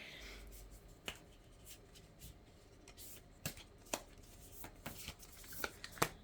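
Tarot cards being shuffled by hand: soft papery riffles and scattered crisp snaps and clicks, quiet and close, with no voice over them.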